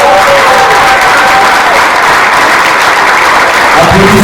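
Sustained audience applause at a Ngond'a Sawa gala in Montréal fills the room, a dense steady wash of many hands clapping at close range with no break.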